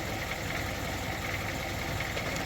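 An old Lada Zhiguli car idles with a steady, even low rumble, close by and unbroken for the whole short stretch, with no voices over it.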